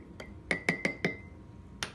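A spoon clinks against a glass while stirring turkey and vegetable broth, four or five bright, close taps in an uneven rhythm, with one softer clink at the start and another at the end.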